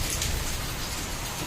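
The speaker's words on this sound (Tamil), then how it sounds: "இங்கே செம்ம மழை, காலையிலேருந்து செம்ம மழை" Heavy rain pours steadily in Pondicherry, a dense, even hiss with no breaks, fairly loud and close, with no voices over it.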